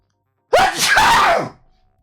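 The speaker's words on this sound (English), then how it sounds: "I got to sneeze." A single loud, close sneeze with a sharp onset and a voiced, drawn-out tail lasting about a second.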